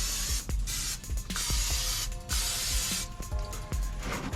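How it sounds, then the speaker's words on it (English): A spray bottle mists a smoked whole honey-and-spice chicken on a Char-Griller smoker, with repeated close bursts of hissing spray, each starting with a sharp trigger click, in a steady rhythm of about one squeeze per half second. "So I'm gonna go ahead and spray it some more."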